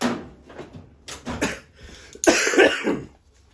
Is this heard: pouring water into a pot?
no